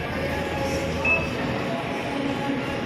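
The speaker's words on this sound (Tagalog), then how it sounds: "Ito ang biyahan ng MRT." Rolling rumble of an MRT commuter train on a ride through Manila, a steady broadband hum of wheels and carriage noise with faint metallic clinks and a brief squeal, continuous and close.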